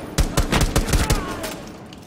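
Rapid bursts of shotgun fire crack out in quick succession in an indoor firefight in Rainbow Six Siege, loud and close, about six sharp blasts in two seconds.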